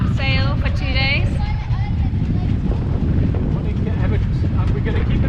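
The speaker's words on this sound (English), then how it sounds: "Quite windy as we came round here." Strong wind buffeting a sailing boat as it rounds into Papeete harbour, a loud, roaring rumble of gusts across the microphone, with a voice speaking briefly early on and water rushing underneath.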